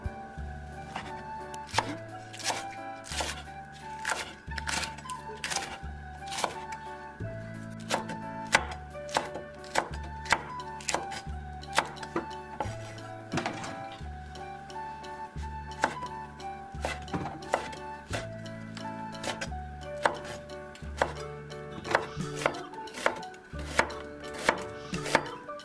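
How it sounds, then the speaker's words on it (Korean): A knife cuts green and red chili peppers and green onion on the diagonal and slices onion into thin strips, tapping quickly and steadily on a cutting board, close and alone. "청홍고추 대파는 어슷썰기 해주고 양파는 채 썰기로 해줍니다."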